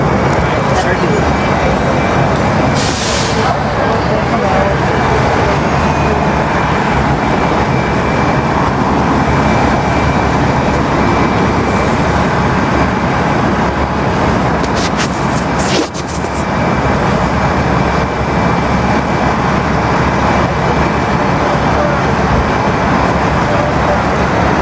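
Dense, loud roadway rumble of cars passing and pulling out at a Portland protest, a constant wash of engine and tire noise with occasional louder swells.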